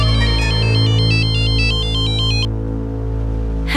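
A phone ringtone plays as an electronic melody of repeating bright tones for about two and a half seconds over a steady background hum, then stops, with a brief rustle at the end.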